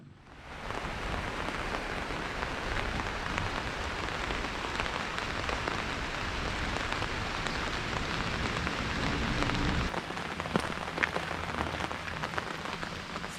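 Steady rain pours down across a hard surface, a continuous dense hiss with scattered droplet taps, no voices.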